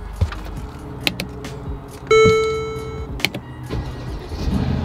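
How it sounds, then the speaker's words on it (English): A Mercedes car is started from inside the cabin: a few clicks and key sounds, then a sharp starter crank that catches and settles into an idle, close by with no talking. "First thing we're gonna do, we're gonna start the vehicle."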